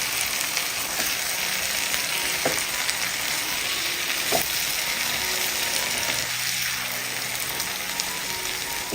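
Boiled eggs frying in a pan with masala, stirred over a low flame; a steady close sizzle runs throughout with a few soft scrapes of stirring, no talk.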